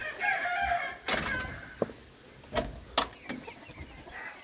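Roosters crowing repeatedly and chickens clucking in a backyard flock, several sharp crows cutting across softer clucks and bird chatter.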